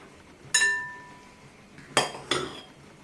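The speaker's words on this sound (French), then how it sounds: "pour la poire ou la pomme ou ce que vous voulez, moi je vous conseille de couper d'abord en deux" A knife cuts a pear or apple into quarters, giving three sharp metallic clinks against a dish, the first ringing briefly and the last two close together, in a quiet kitchen with no talking.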